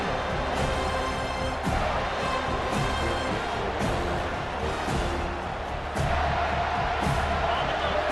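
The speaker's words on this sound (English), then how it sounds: "Decibels rising as the crowd gets behind this defense on third down." A large American football stadium crowd at Arkansas vs Florida State roars for the defense on third down: a dense, loud, sustained wall of cheering with a few sharp bangs and swells throughout.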